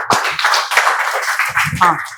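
Students in a spoken-English classroom give a short burst of clapping, several sharp hand claps mixed with a teacher's voice talking over them.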